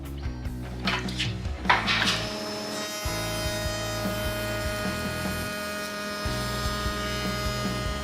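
A router, set to a fairly slow speed, cutting a tongue joint in a pine board: a steady close electric whine with droning hum and some rougher cutting noise near the start.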